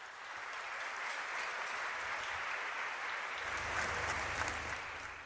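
An audience applauding at a religious gathering at an Islamic boarding school, a dense, sustained round of clapping that swells slightly and then fades.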